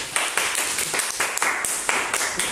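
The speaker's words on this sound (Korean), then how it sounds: "박수!" A workshop audience claps together in a brisk burst of rapid, overlapping hand claps lasting a couple of seconds, fairly close and without talk.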